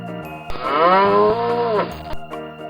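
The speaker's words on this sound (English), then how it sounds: "Cow." A single cow gives one loud, close moo lasting over a second, rising and falling in pitch, heard alone with no talking.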